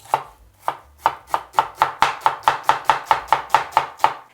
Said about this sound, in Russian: Берем одну луковицу среднего размера, весом около 100 граммов и нарезаем ее мелким кубиком